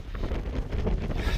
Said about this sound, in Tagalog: Mahangin masyado rito.